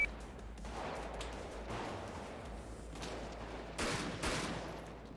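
Gunfire crackles in a GTA roleplay game during a jewelry heist, a faint patter of shots giving way to two sharper, louder bursts near the end, all fairly distant.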